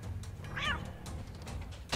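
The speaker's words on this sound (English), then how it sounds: "If you hit the button, cat meows." A single cat meow from the video game Injustice: Gods Among Us, short and clear at mid-clip over faint background noise and a few soft clicks.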